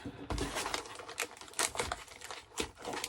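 Quiet, irregular crackling and crinkling of a thin plastic bag wrapping a card holder package, in short scattered bursts close by.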